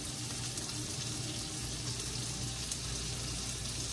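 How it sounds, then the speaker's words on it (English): Cheese sauce is poured over cooked macaroni, a continuous wet, gloopy pouring sound with a steady hiss underneath that holds at an even level throughout, with no talking. "Now all I gotta do is just pour this cheese sauce on it."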